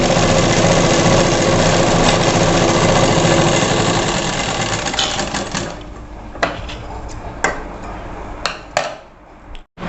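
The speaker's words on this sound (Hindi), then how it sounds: "इसके किनारे से हम ऐसे सिलाई लगा लेंगे एकदम लंबा टाका वाली" A sewing machine runs a long gathering stitch along the edge of a girl's frock, a steady dense whirring for several seconds that then stops, followed by a few brief clicks and handling taps.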